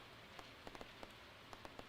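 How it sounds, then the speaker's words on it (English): Quiet rain patters in Stardew Valley, a soft steady hiss broken by a handful of distinct drip ticks scattered across the clip. "Get out of the rain."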